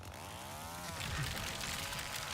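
Leatherface's chainsaw in a video game, revving as a steady, loud, rough mechanical drone that holds for about two seconds with no talking over it.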